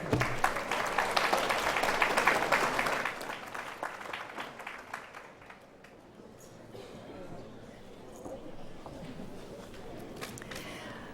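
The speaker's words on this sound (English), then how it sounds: "I'm the only one who got a standing ovation. and the applause has been amazing" Applause at a convocation ceremony swells loudly as a crowd claps for several seconds, then thins to scattered claps and fades into room murmur, with sparse footsteps and shuffling afterward.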